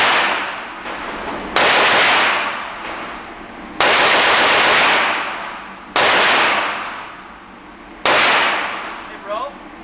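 A Beretta M9A1 pistol with a trigger modification is fired rapidly outdoors, giving loud, sharp reports at a steady rhythm roughly every two seconds, each with a long fading tail.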